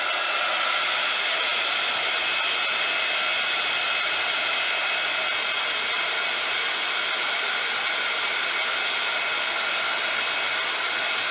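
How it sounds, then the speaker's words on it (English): A heat tool blowing steadily to dry watercolour on a die-cut paper piece, a loud constant whooshing whir held without a break from start to finish. "I'm just going to bring in my heat tool here just to dry this off."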